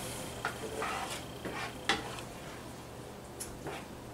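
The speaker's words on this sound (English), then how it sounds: "And then I'm just going to let that cook down." Tomatoes simmering and reducing in a pan on the stove, a quiet steady sizzle broken by a few soft utensil stirs and scrapes against the pan, faint and close.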